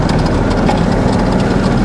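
A motorized rail draisine engine on a forgotten narrow-gauge forest railway runs with a loud, steady low rumble close by, without a break through the short stretch.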